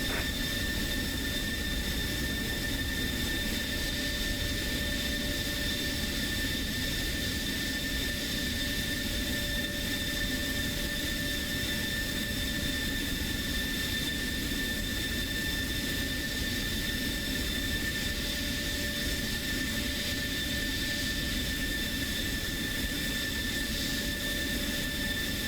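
An F-16 fighter jet taxis at Ramstein air base, a steady, distant whining engine drone with sustained high tones, continuous and unchanging with no voices.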